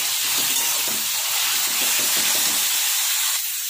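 Vegetables fry in a pan with a little salt over a low gas flame, giving a loud, steady hiss with faint, rhythmic stirring underneath and no talking.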